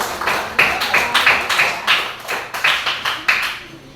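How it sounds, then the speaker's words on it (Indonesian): A classroom group claps in a loose, uneven patter of sharp hand slaps, about a dozen distinct bursts fading slightly toward the end, with no voices over it. "ya tepuk tangan"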